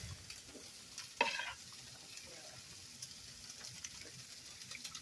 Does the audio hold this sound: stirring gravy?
yes